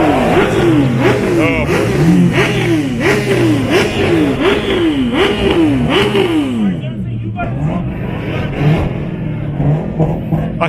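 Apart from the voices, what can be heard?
motorcycle revving at high RPM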